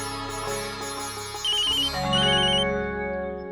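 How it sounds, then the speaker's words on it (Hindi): A phone ringtone plays a bright electronic melody, steady and moderately loud, with no voices. "माँ का फोन है।"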